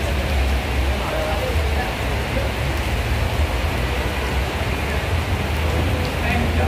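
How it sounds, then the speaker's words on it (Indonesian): Heavy rain pours steadily and loudly at a bus terminal in Maospati with parked buses, a dense continuous hiss with low rumble and no breaks throughout. "hujan deras"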